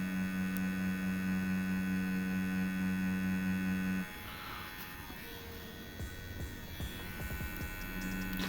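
A tattoo machine fitted with a 5 round shader needle hums steadily while shading, a continuous electric buzz that shifts in tone after a few seconds as the needle moves into the skin.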